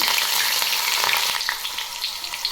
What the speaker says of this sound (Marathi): तेल गरम झालं आहे यामध्ये आता जिरे मोहरी टाकून घेऊ हिरवी मिरची लसूण